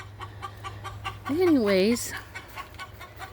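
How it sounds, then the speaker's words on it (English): Free-range backyard chickens cluck in a quick pulsing series, with one louder drawn-out squawk in the middle, while a person briefly speaks nearby. "as you can hear, it is with the chickens."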